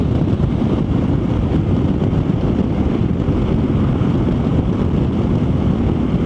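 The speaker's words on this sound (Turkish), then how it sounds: "Evet rüzgar çok fazla olmaya başladı burada" Strong wind near a summit on the road from Bozüyük to Bursa roars and buffets continuously against the microphone, a loud, steady rumble with no other sounds breaking through.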